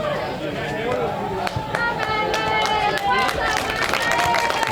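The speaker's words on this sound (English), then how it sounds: "And the applause comes from the local side." Crowd at an Australian football match in Sydney applauding from the local side, a broad steady clapping mixed with crowd murmur and a commentator talking over it.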